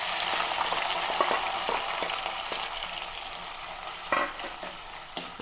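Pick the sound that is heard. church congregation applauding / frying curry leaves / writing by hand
frying curry leaves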